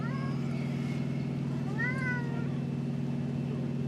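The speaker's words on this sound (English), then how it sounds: "there's a noisy kitty in the back of my truck who won't shush because he wants treats" A cat in the back of a truck meows insistently for treats, two or three drawn-out, rising cries over the steady low hum of the idling truck.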